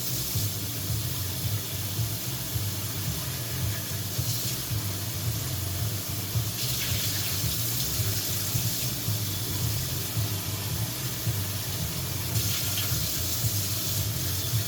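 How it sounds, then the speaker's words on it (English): Running tap water rinsing out a cooking pan in a kitchen sink after making cheese tteokbokki, a steady close splashing hiss that continues unbroken throughout with no talking. "Let me rinse out this pan because I gotta do more, and I gotta use the pan."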